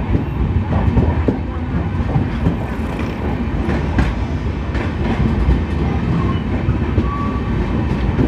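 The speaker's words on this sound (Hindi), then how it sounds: "तो चलिए अब मैं आपको दिखाता हूँ उस ट्रेन का यहाँ से डिपार्चर।" The Amrawati Express departs Narsinghpur station: a loud, close, continuous rumble of rolling coaches with repeated clacking of wheels over rail joints and occasional metallic squeaks.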